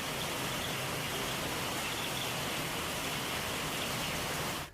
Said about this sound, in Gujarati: અમદાવાદના કેટલાક વિસ્તારોમાં વરસાદ વરસી રહ્યો છે.